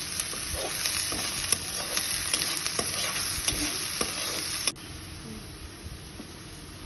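Onions fry in a pan with a steady, bright sizzle and occasional stirring clicks and scrapes, loud and close, then the hiss drops sharply to a softer sizzle for the last couple of seconds.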